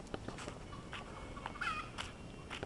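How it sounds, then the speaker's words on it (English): Chickens in Hawaii clucking faintly outdoors, with scattered short calls and soft fowl chatter over a low background hiss. "Oh, we got chickens."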